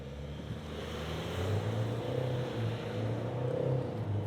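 GWM Cannon ute accelerating hard from a standstill with traction control off, a low steady engine drone rising in pitch through the gears, heard from inside the cabin with no talking.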